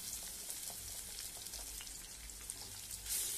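Ginger garlic paste sizzles and fries steadily in hot oil while cooking a yellow potato bhaji, a continuous close crackling hiss with scattered pops.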